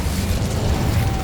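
Incendio fire spell cast in Hogwarts Legacy on PS5, a dense, continuous roaring whoosh of flame that stays loud and steady throughout the short burst, with no voices over it.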